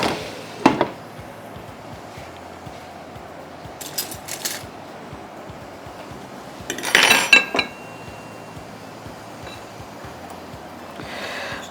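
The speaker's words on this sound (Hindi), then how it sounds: "और इसके ऊपर मैं ज़रा ढक्कन ढाँक दूँ।" Metal lid set on a cooking pot of water mixed with coconut milk powder in a home kitchen, giving a brief cluster of clanks and clinks midway, with fainter clinks of utensils before and after, no talk.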